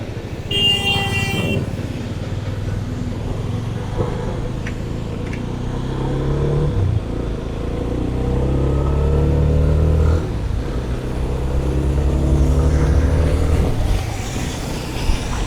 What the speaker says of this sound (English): This truck puller is not interested in slowing down for that speed breaker.